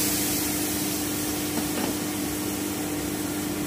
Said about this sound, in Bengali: এবারে আমি দুধটা দিয়ে দিচ্ছি